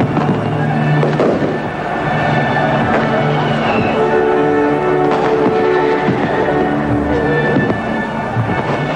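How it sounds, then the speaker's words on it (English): Fireworks at the German reunification celebrations in Berlin in 1990 crackle and boom continuously, a dense, loud barrage of bursts and pops with crowd noise beneath. "millions of people celebrated the momentous event with parties and fireworks."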